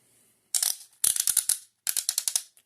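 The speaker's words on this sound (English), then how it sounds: "absolutely heavy-duty ratchet joints" Heavy-duty ratchet joints on a Transformers Legacy Metroplex toy click in quick bursts of sharp, close, loud ticks, three separate runs of rapid clicking with short silent gaps between them and no voices.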